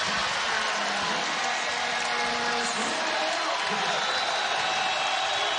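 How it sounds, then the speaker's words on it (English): A basketball arena crowd at a Houston vs Cincinnati college game roars and cheers continuously, loud and dense throughout, with a commentator talking over it. "Crowd has been re-energized."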